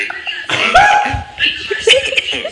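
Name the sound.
coughing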